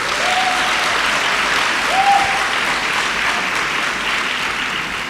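A conference audience at a professional development institute applauds in a loud, sustained wash of clapping that holds steady throughout without pause.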